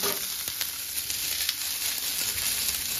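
Onions sizzle in a pan for egg malai curry, giving a continuous close frying hiss with occasional stirring clicks and no voices.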